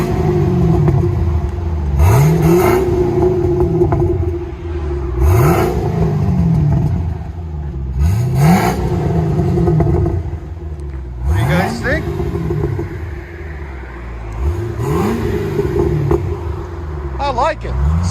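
A 2015 Chevy Camaro SS with a 6.2L V8 and Flowmaster Outlaw dual exhaust revs up about five times at a steady interval, each blip rising and falling back to a deep, throaty idle.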